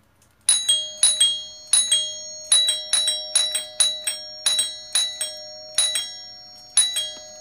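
An electronic ding-dong doorbell rings over and over in a quiet room, each press giving a bright two-tone chime that rings out and fades before the next, about a dozen in a row.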